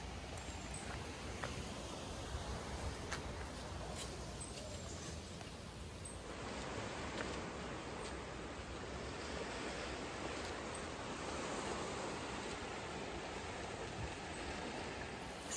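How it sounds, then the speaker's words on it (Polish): Ocean surf washes onto a rocky beach in Canada at low tide as a faint, continuous hiss with no distinct breaks between waves. "słychać ocean."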